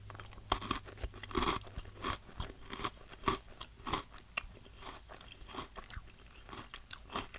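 Someone chews light, crunchy chocolate-covered vegan candy bought at Walmart, sharp close crunches in an irregular rhythm, several bites and chews over a few seconds with no talking.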